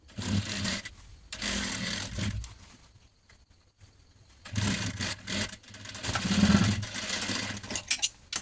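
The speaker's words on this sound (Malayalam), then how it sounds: "അപ്പോൾ നമ്മൾ ഇതുപോലെ സ്റ്റിച്ച് ചെയ്തെടുത്തിട്ടുണ്ട് പതിച്ചടിച്ച് കൊടുത്തിട്ടുണ്ട്" A sewing machine topstitching fabric for a top runs in bursts, with a loud stretch at the start, a quiet pause in the middle and a longer run near the end, close and without talk.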